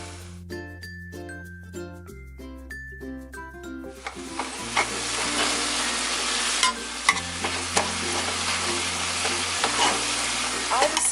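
Spaghetti in a pan gets Tony's Creole seasoning stirred through it, a loud sizzle and scraping stir rising after a few seconds over a steady musical background, with occasional clinks.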